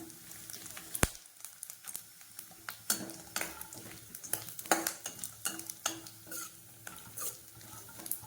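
Cashews and almonds roasting in a pan, with a low sizzle under repeated spoon scrapes and knocks against the metal, one sharp clank early on, close and quiet with no talk.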